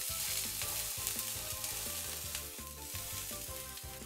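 Thin round slices cook gently in a pan with soy sauce, giving a steady, even sizzle with soft crackling close by and no talk.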